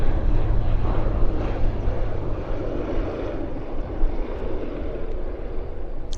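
A cargo aircraft taxiing at Vancouver Airport, a continuous broad jet-engine roar heard from a moderate distance, steady in level with slight swells.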